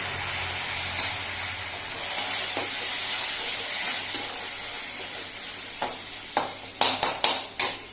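A spoon stirs chicken chili fry in a pan just after sauce goes in, Goan style, with a steady sizzle under scattered scrapes and a quick run of sharp scraping strokes near the end.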